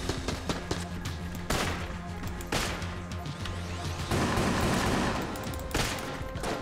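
Gunfire in the video game Enter the Gungeon comes as loud, rapid repeated shots and bursts that continue almost without a break, with no talk over them.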